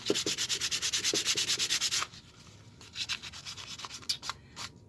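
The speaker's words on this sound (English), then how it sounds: "And then we'll take some sandpaper." Sandpaper rubs back and forth over a carved wood figure in quick, even strokes, loud and close for about two seconds, then lighter, scattered scraping continues with no voices.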